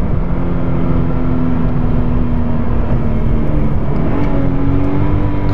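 Engine of a 2016 Subaru BRZ held flat out in third gear through a corner, a loud continuous drone with a steady pitch that rises slightly near the end, heard from inside the car.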